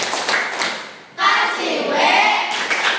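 Children clap their hands in rhythm during the 'tepuk wow' clapping game in a classroom lesson, with bright, sharp claps mixed with young voices chanting along.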